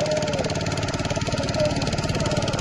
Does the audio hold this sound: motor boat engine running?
yes